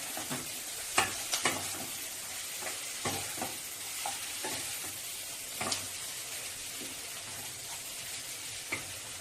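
Prawns, already lightly fried, sizzle steadily in a hot pan with a few sharp clinks of stirring scattered through the continuous frying hiss; no one speaks.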